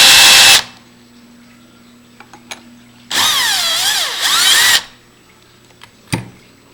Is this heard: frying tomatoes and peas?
no